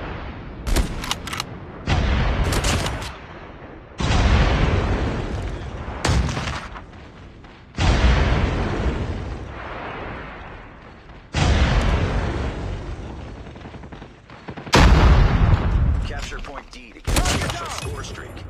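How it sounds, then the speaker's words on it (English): Heavy airstrike blasts in the mobile shooter COD Mobile rip through a battle in repeated loud bursts, each a booming roar lasting about two seconds, with rattling gunfire between them. "Friendly airstrike incoming"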